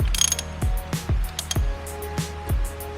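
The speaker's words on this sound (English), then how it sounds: "Give it a proper wipe and then screw the oil filler cap." A motorcycle oil filler cap being screwed on after fresh engine oil is poured in gives about six sharp ratcheting clicks in a steady rhythm, close and clear, with no talking.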